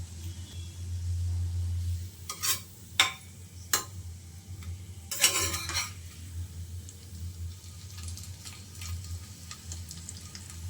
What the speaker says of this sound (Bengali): দু সাইড এবং এই চারিদিকে এই অংশটা এভাবে আমি ধরে ধরে ভেজে নেব